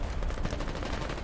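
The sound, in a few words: gunfire in the video game Foxhole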